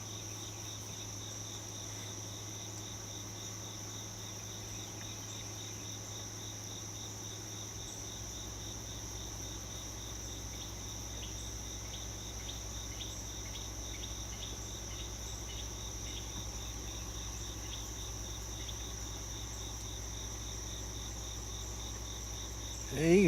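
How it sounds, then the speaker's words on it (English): Crickets chirp in a dense, steady, unbroken drone at sunrise on a late-August morning, constant and moderately close under a low background hum for the whole stretch. "You can certainly hear the crickets"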